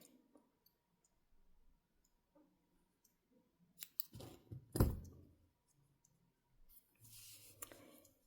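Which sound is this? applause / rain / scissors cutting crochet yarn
scissors cutting crochet yarn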